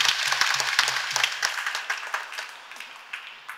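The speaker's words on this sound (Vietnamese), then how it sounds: "xin quý cha và cộng đoàn dành một tràng pháo tay thật lớn để chúc mừng ngày lễ bổn mạng hôm nay" Applause from a church congregation celebrating the parish patron feast of Our Lady of the Rosary: many hands clapping steadily at first, then thinning and fading toward the end.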